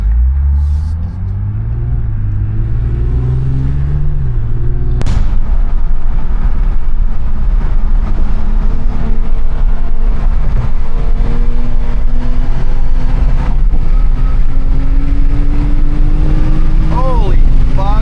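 A V6 car engine fitted with a $100 aftermarket exhaust rumbles loud and close, its revs climbing and settling with a sharp blip partway through, deep droning tone throughout.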